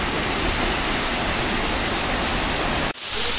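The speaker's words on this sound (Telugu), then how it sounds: "మెయిన్ వాటర్ ఫాల్ పక్కనే చిన్న వాటర్ ఫాల్ కూడా ఉందన్నమాట." A small waterfall in the jungle at Tukad Cepung, Bali, gives a steady, loud rushing roar that fills the scene, with a brief dip near the end before the flow noise returns.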